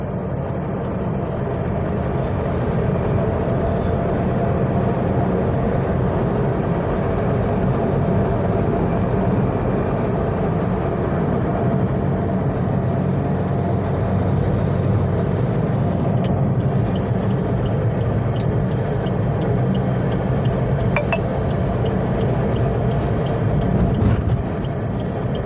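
Steady engine and road rumble from a car cruising along the NH2 highway, continuous and even throughout with no talking.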